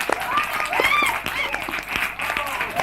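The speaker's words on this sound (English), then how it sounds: "Keep clapping." An audience claps and cheers for a choir at a live event, dense continuous clapping mixed with crowd voices and shouts throughout.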